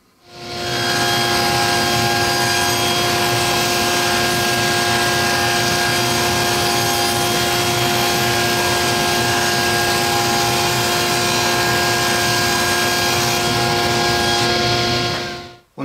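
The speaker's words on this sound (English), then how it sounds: "I'm going to rip the 5/8 inch thick stock to 6 inches in width." A power saw rips 5/8 inch thick wood stock to 6 inches wide for a doorway shelf, making one loud, steady whine and roar that runs almost unbroken for the whole span before it cuts off at the end.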